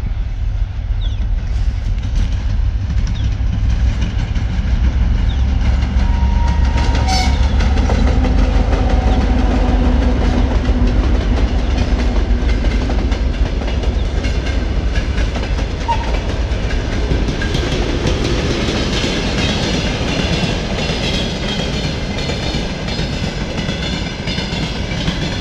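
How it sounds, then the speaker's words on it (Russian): A train rolls past alongside a railway line near a village station, a steady loud rumble of wagons with clickety-clack over the rails lasting throughout, with no talk. "Все думали, что поезд поедет там, а он поедет там."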